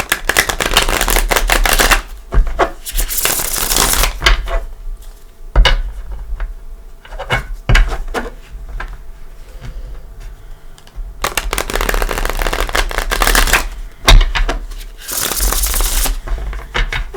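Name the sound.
shuffling tarot cards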